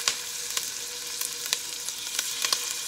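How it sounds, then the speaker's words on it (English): Meatballs frying and browning in a pot give a steady, quiet sizzle with scattered sharp pops and crackles throughout, no talking. "So I'm gonna go ahead and just place these in here, start to brown these a bit."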